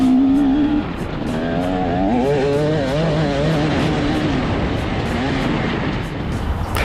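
A TM EN 300 Fi ES 2020 motorcycle revs loud and close throughout, its engine note rising and falling through gear changes with steady high-pitched whine and rough exhaust roar.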